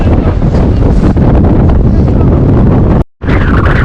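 A fierce storm wind rushes over a mountain summit during a descent, roaring continuously and buffeting the microphone loudly, with a brief dropout near the end.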